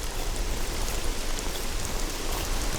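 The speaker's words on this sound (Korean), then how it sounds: "이렇게 비가 내리거나 운무가 짙은 날 사람들의 발길마저 끊겨 지리산은 텅 비어버리죠." Steady rain pours on Jirisan mountain, a dense even hiss with close spattering drops that stays constant throughout, with no voices over it.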